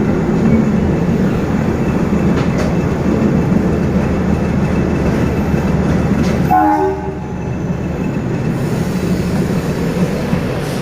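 The Howrah–Mumbai Mail special train pulls into Chhatrapati Shivaji Maharaj Terminus in Mumbai, heard from inside an AC two-tier coach. A loud, steady rail rumble carries throughout, broken by a brief horn-like tone partway through.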